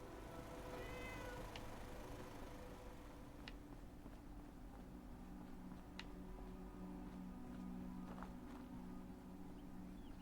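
A cat meows faintly a few times under a steady low hum and scattered small clicks.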